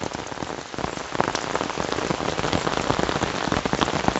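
Heavy storm rain pours down steadily, a dense, close drumming of drops hitting surfaces with no break and no voices.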